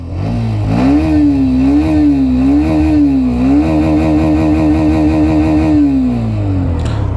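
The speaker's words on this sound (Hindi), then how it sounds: "लगभग मैं 9000 आरपीएम तक इसको जो है रेव ऑन कर रहा हूँ।" A Hero Xtreme 125R motorcycle engine revs up from idle, holds a high, buzzing whine that wavers slightly, then drops back to a throbbing idle; loud and close, with no talking.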